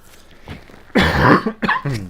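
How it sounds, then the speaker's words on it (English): A single harsh cough close to the microphone, followed by a couple of short throat-clearing sounds. "I got a cough."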